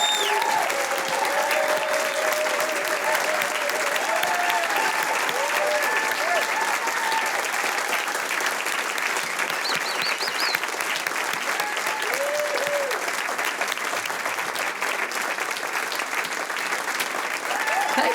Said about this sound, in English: please give her a big applause